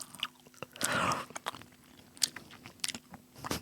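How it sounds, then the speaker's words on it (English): A crunchy finger-shaped snack is bitten and chewed up close, with a firm crunch followed by a series of sharp, irregular crackles and softer mouth sounds at low level. "Let's listen to the crunch of the finger."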